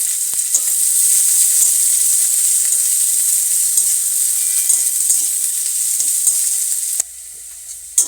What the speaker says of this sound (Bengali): এখন ফোড়নে দিয়ে দেবো কালো জিরে, আর দিয়ে দেবো কেটে রাখা পেঁয়াজ।